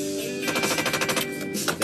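Rapid, loud mechanical rattling from failing actuators, a dense stuttering clatter like automatic gunfire that keeps going for nearly two seconds.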